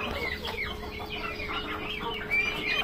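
Chickens cluck steadily on a poultry farm that also keeps turkeys, guinea fowl and fancy breeds. The calls overlap continuously at close range, with a slightly louder burst near the end.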